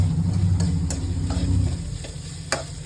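Onions sizzle in a hot pan while a spoon stirs them, the scraping strokes and a few sharp taps landing close and clear over the frying hiss, with no speech.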